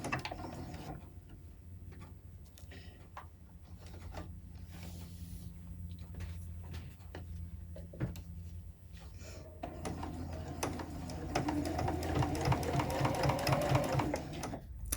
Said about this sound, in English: I'm going to top stitch around it.